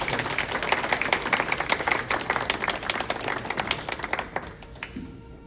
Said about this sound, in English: Please welcome Ms. Farzana with a big round of applause.